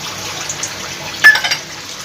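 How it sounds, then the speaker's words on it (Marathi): A few spoonfuls of water go into a sizzling paneer bhurji mix in a pan, a brief close splash and hiss heard alone. "आता आपण ह्यामध्ये 2 ते 3 चमचे पाणी टाकून घेऊया"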